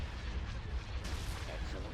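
A heavy cannon shot booms in a Star Wars: Empire at War space battle, a deep rumbling blast that fills the moment, set against continuous low battle noise.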